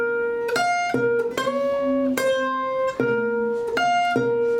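Electric guitar plays the closing lick of a solo, a run of picked single notes in a steady repeating rhythm, bright and close, with each attack crisp and no voices over it.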